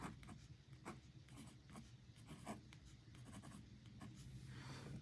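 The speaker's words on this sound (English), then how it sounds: "So I'm going to write that down here under variables." A pen scratches steadily across paper as numbers are written into a budget, a close run of short strokes and taps with no talking.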